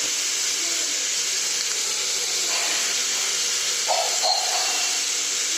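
Curry leaves go into a hot frying pan with potatoes and garlic for masala khichdi, giving a steady broad hiss of frying that swells slightly near the end, with faint clinks in the background.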